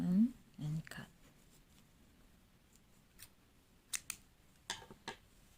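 Scissors snip through crochet yarn in a few quick, quiet cuts near the start, followed by faint scattered ticks and rustles in a hushed setting.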